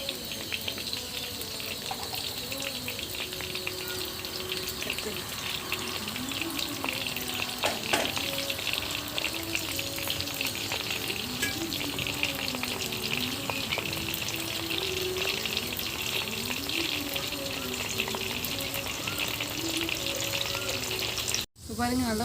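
Pan frying for chilli egg pasta, a continuous close sizzle with occasional stirring scrapes and clinks, and a brief sharp knock near the end.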